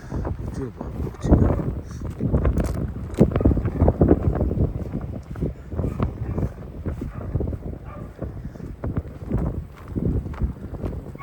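Strong wind roaring against the microphone during a snowstorm in Omaha, Nebraska, loud and continuous with gusty buffeting and a voice talking over it.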